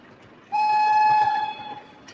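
A video game train whistle blows once, loud and steady, holding for about a second before tapering off, its bright harmonic tones standing clearly over a low background hum.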